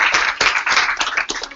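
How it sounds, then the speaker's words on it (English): Applause for a fieldwork and internship panel, a short burst of dense clapping from an audience that rises and dips in small swells, fairly loud and close, with no voices over it. "Let's give our panelists a round of applause"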